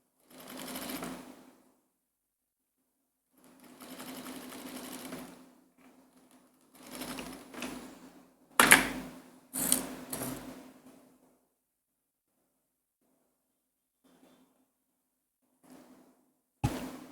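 Domestic sewing machine stitching the center-front seam of a floral A-line dress at a long stitch length, running in several short bursts with pauses between them, close and clear.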